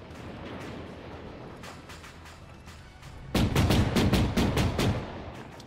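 Gunfire in Arma 3 during a mechanized battle with a Leopard tank platoon: a loud, rapid burst of repeated shots close by after scattered quieter distant reports, with a faint voice under the earlier part.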